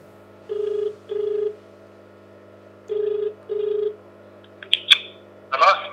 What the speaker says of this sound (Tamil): இப்போ நான் ஃபோன் பண்ணுறேன், உங்களுக்கு என்ன ரெஸ்பான்ஸ் கொடுக்குறாங்கன்னு மட்டும் நீங்கள் பாருங்கள்